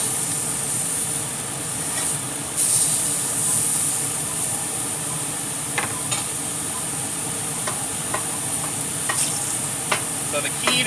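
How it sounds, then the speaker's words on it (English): Burgers sizzle steadily on a cooking surface while being flipped, with the frying hiss constant throughout and a few sharp spatula scrapes and clicks breaking through near the end. "Time to flip the burgers."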